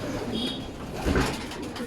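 Young racing pigeons, a summer batch of young birds, give soft low cooing in a short burst, with a fuller coo swelling midway over a steady background rustle.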